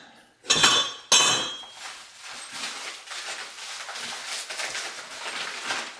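Metal parts of a bolt kit for a high-arch wheel hoe clink and rattle as the kit is opened. Two sharp jangles at the start give way to lighter, scattered clinks and shuffling, heard up close.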